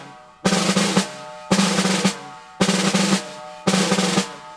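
Four evenly spaced five-stroke snare rolls, each a short buzzing roll ending in an accent, played alone and close up.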